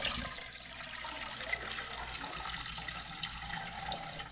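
Water from a pot of boiled saltfish poured off into a sink, a steady rushing gush that runs unbroken for a few seconds, loud and close with no talk.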